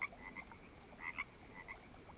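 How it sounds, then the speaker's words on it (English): A poison dart frog in the jungle survival game Green Hell gives faint, high chirping croaks in a few quick bursts, heard alone against quiet ambient background. "That's a poison dart frog."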